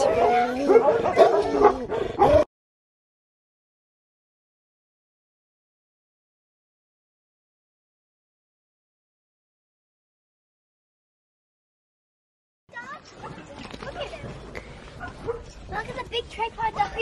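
Dogs at an animal shelter in Dubrovnik bark and whimper in two bursts, near and fairly loud, separated by a long silent gap; voices mix in with the dog sounds.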